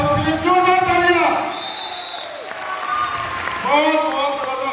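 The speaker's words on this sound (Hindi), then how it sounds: "जोरदार तालियां" Audience applause at a leadership training event, crowd clapping beneath loud music with sustained tones, the clapping fairly masked and mixed throughout.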